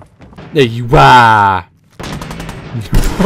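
Gunfire from a realistic sound mod in Fallout 4, sharp loud shots crackling in a burst near the end after a shouted voice, with a tonal game sound and brief gaps between.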